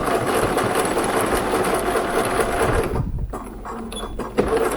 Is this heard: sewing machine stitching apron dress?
yes